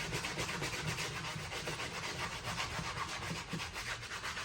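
A brush scrubs Dior sneakers with cleaner in quick, continuous back-and-forth rubbing strokes, close and fairly quiet, with no voice over it.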